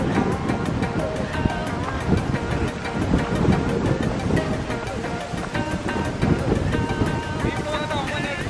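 Strong wind blows across a hilltop at Palkulamedu in Idukki, roaring and buffeting the microphone continuously, with voices heard under the gusts.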